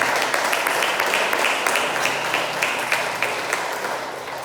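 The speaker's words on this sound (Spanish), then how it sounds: "Bríndale un fuerte aplauso al Señor." A church congregation claps together in a steady, dense burst of applause that fades slightly over a few seconds, filling the room with no talking on top.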